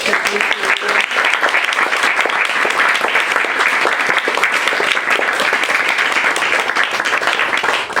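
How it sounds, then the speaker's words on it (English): An audience at a poetry reading applauds the poets, a dense, even clapping that stays loud and unbroken from start to finish. "Let's give the poets another round of applause"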